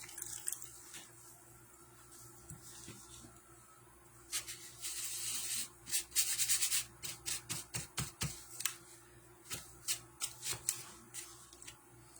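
A sponge dabs almond-colored paint onto a surface to build a rust effect. Soft brushing gives way to a quick run of close, rhythmic dabbing taps, with no talking.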